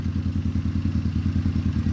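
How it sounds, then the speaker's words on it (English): A 1972 Honda CB350F four-cylinder motorcycle with custom exhaust and slip-on mufflers idles in a steady, low, even burble, close and moderately quiet, with no talk over it. "Love the sound of this little 4-cylinder 350."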